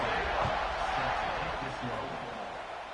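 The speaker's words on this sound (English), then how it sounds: "this crowd is buzzing after that last score" Dense, steady stadium crowd buzz from a college football video game, California against Auburn, a broad continuous roar just after an extra point with a few muffled thumps beneath, holding level throughout.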